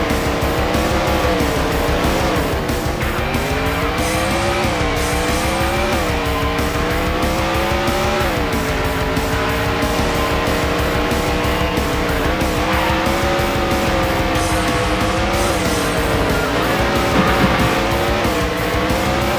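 Race cars in the Andretti Racing video game, loud continuous engine roar shifting pitch through gear changes, with tire squeals as the field comes off the final corner.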